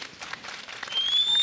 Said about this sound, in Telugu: ఒకసారి వారందరికీ గట్టిగా చప్పట్లు